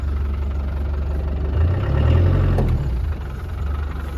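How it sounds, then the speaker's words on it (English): The 300Tdi diesel of a 1997 Land Rover Defender 110 idles smoothly with a steady low rumble and clatter, swelling slightly as revs rise briefly mid-way, heard up close with no speech. "The engine runs very smooth and no smoke out of the tailpipe."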